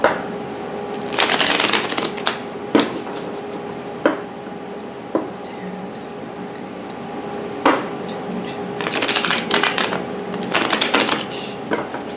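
Bursts of riffling tarot card shuffles come in two main bouts, with a few sharp single taps and slaps between them, close and fairly loud, no talking.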